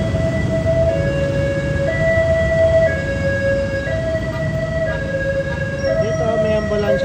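An ambulance siren sounds amid road traffic, its two-tone call stepping steadily between pitches for several seconds over a constant low rumble of engines.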